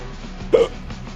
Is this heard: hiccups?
yes